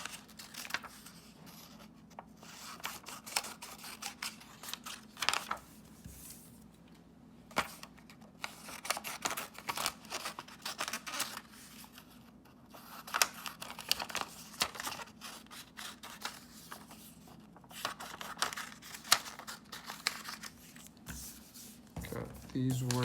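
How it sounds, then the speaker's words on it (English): Scissors snip paper word cutouts at close range in quiet, irregular bursts of crisp clicks and rustles, mixed with paper handling and shuffling throughout, beneath a steady low hum. "Cut these words. Now we're gonna cut out the verbs."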